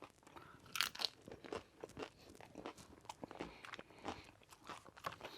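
Close, crisp crunching as someone bites and chews Jack in the Box spicy tiny tacos, sharp cracks at first settling into softer, irregular chewing.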